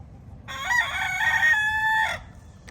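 A rooster crows once near at hand, one loud cock-a-doodle-doo of about a second and a half rising and then holding steady, alone on a quiet farm with no talk.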